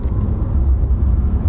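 An electric pickup truck floored from about 37 mph while passing on a rural road, giving a loud, steady low-frequency rumble of road and wind noise.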